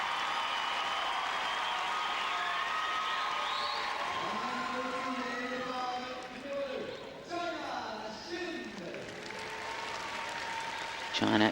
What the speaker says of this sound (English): Big cheer for them.